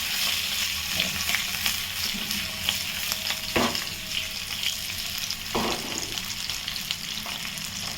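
Potatoes shallow-frying in oil on a high flame for spicy dum aloo, a steady close sizzle with occasional stirring scrapes and clinks from a spoon in the pan, no talking.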